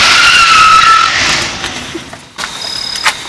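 A car skids hard to a stop with a loud, close screech of tires that fades out, then a short burst of rattling noise.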